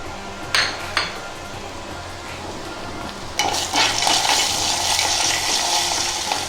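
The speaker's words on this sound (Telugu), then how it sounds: "చారు ఇలా వేగుతుంది, తాలింపు ఇలా వేగుతుంది." Tempering frying in hot oil with curry leaves and onion pieces for a rasam, starting as a soft sizzle with a couple of metal clinks, then surging into a loud, crackling fry as ingredients hit the oil.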